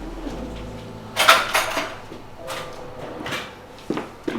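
A kitchen drawer slides and a spoon is taken out: a scraping rattle of cutlery near the start, followed by a few lighter clinks and knocks at close range, with no talking.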